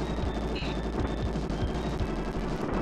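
Nonstop automatic gunfire in the video game Bazooka Blitzkrieg, a dense unbroken stream of rapid shots with game sounds mixed in, loud and steady throughout.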